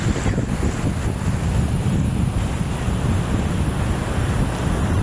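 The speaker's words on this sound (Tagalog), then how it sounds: "Dapat pinahabol ako ng alon." Ocean waves at Bagasbas Beach in Daet, Camarines Norte, rush and wash in a steady, loud roar of surf, mixed with heavy wind buffeting the microphone throughout.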